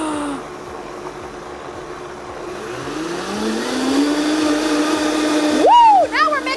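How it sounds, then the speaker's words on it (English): An electric blender whirs steadily as it mixes cream with sugar and vanilla, its motor hum rising in pitch and holding, with a voice briefly speaking near the end. "Turn the blender on."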